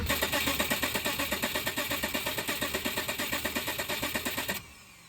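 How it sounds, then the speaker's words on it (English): Subaru EZ30 flat-six being cranked over by its starter motor to prime the oil, a rapid, even, rhythmic churning of compression pulses that runs loudly for about four and a half seconds and then abruptly stops. "I'm priming the engine by cranking over until the light goes out and the turbo oil feed flows"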